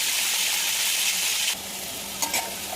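Washed chicken pieces hit hot oil in a pan and erupt in a loud, continuous sizzle that drops back to a steady fry partway through, with a couple of brief clatters near the end.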